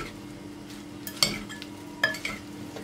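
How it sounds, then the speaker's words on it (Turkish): A cheese salad with arugula and chopped pepper is mixed in a bowl, with a few sharp utensil clinks and soft rustling stirs, close and quiet, with no talking. "Karıştırayım."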